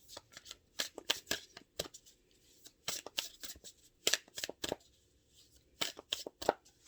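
Tarot cards shuffled by hand in repeated quick riffling bursts, crisp papery flutters separated by short pauses, close and moderately loud with no talking.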